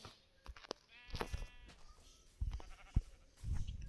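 Sheep bleat nearby a few times in short, wavering calls, mixed with low rustling and shuffling sounds close by.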